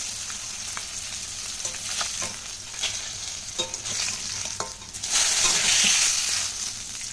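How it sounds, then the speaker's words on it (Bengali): Fish frying in oil in a pan, a steady close sizzle with stirring scrapes that swells louder for a few seconds near the end, with no talk over it. "বাকি মাছগুলো আমি ভেজে নেব।"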